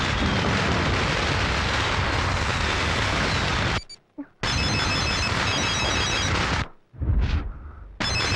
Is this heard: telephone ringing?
yes